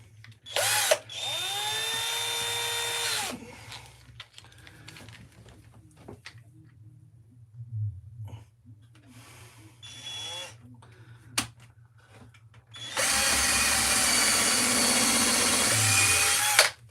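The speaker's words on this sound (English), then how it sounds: "let's drill some holes, screw some screws." An old power drill whines loudly in two long bursts while drilling holes and driving screws for a garden stool, separated by quieter clicks, handling noises and short tool sounds.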